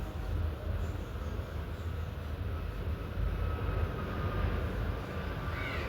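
A train passes at a distance near a home puja setting, giving a steady broadband rumble that holds throughout with slight swells and a faint high squeal near the end, with no voices.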